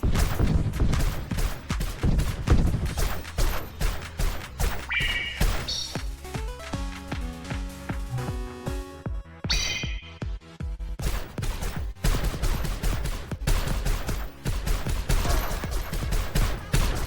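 Small bombs in the shoot-'em-up video game Fuel Me Up: rapid bursts of sharp cracks and bangs fire in quick succession, with short pauses between the loud clusters.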